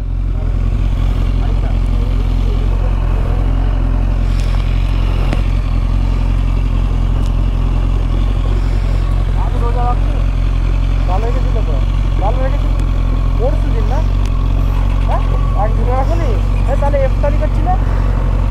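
Kawasaki Z1000 motorcycle engine idling steadily and loud up close, a continuous deep rumble throughout, with voices speaking over it.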